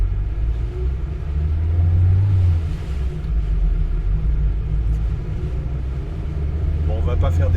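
A 1974 Renault 5 TL with a light body and 47-horsepower engine gives a steady low rumble from inside the cabin while driving. A brief rise sounds near the end, and a voice talks over it.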